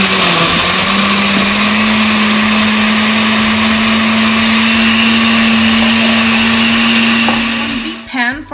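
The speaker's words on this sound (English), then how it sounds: "and then we're gonna blend it here" A blender whirs steadily at full speed through a salsa sauce with garlic and salt for about eight seconds, loud and constant with a fixed motor tone, then spins down and stops at the very end.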